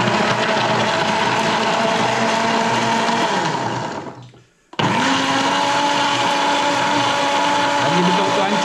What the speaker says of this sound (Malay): blenderkan dia